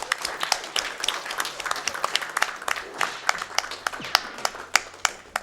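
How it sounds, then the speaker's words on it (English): Audience applause at a live RPG game showcase event, a steady patter of many hands clapping throughout, moderately loud, with scattered sharper claps standing out near the end. "one more round of applause for Charles Barkley"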